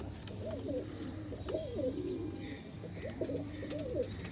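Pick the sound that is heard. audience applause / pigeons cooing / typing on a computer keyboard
pigeons cooing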